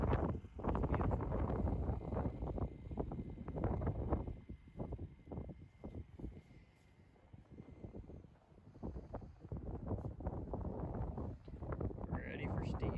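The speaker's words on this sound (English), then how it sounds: "I don't know if you can hear me, but it's too windy." Strong wind buffets the microphone outdoors at a farm in continuous low rumbling gusts, loud throughout, with a person talking over it.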